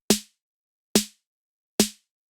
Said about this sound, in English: we've got the original snare,